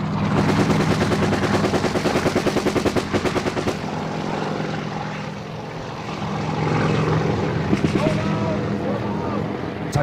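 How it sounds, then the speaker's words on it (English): Rapid bursts of machine-gun fire from a helicopter door gunner crackle over the steady drone of the helicopter during a Vietnam War landing, loud and close, with voices faintly underneath. "Our chopper's gunner opens up on the tree line."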